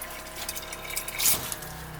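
Outdoors, a pump fills a drinking-water container with a steady rushing, gushing flow that surges briefly midway, with no voices.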